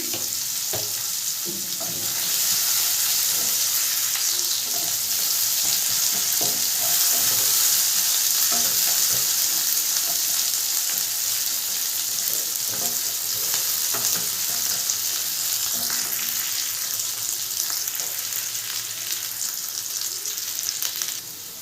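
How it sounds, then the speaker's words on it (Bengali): Sliced onions and slit green chillies hit hot oil in a pan, a loud, dense sizzle that swells and crackles steadily with occasional stirring scrapes, no voices over it. "তেলের উপরে দিয়ে দেবো পেঁয়াজ কাটাগুলো দিয়ে দেবো চেরা কাঁচা লঙ্কাগুলো"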